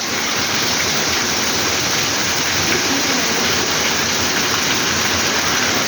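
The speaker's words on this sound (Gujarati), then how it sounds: "વરસાદ સારો આવે છે" Heavy rain pours down in a dense, continuous roar, loud and unbroken for the whole stretch, with no voices over it.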